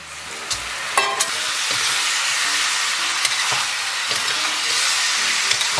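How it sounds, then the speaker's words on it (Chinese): Chunks of pork belly stir-fried with seasonings in a wok, a steady loud sizzle and hiss with occasional scrapes and clacks of the spatula. "咱继续给它简单煸炒一下，提前准备好的调料给它下里边"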